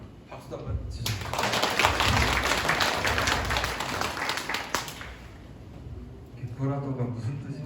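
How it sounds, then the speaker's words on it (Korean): Applause from an audience at a Korean company's New Year kickoff and monthly all-staff meeting, steady dense clapping for several seconds, with talk and crowd murmur, then a voice speaking after it fades. "박수도 한번 치시죠."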